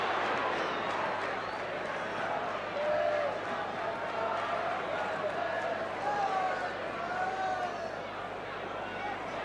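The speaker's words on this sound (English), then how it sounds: "Crowd not happy with that one" Football crowd at a 1970s English league match grumbling after a free kick is awarded, a dense, distant wash of murmuring and jeering voices that stays steady throughout with no clear individual shouts.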